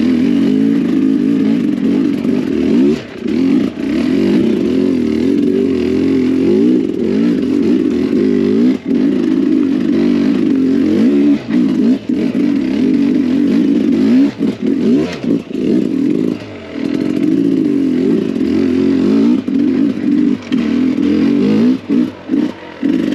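A Sherco 300SE dirt bike with Smartcarb climbs a rocky trail hill in low gear, its engine droning loud and close throughout with brief throttle dips and clattering over rocks.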